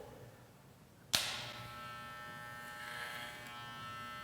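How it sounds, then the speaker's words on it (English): A Wahl 5-Star Legend hair clipper with a number 2 guide comb cuts hair over a comb, its steady electric buzz starting abruptly after a quiet moment and running on close and moderately loud. "I will still be using my attachment guide comb number 2 with the clipper over comb."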